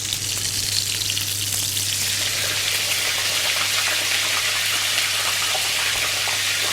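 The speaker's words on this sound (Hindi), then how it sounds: "इधर ऑयल भी गर्म हो गया तो इसमें मैं फ्राइज़ शामिल कर दूँगी।" Curly fries sizzling steadily in a pan of hot oil, a dense, even crackle and hiss that holds at the same level throughout with a low steady hum beneath, no talking.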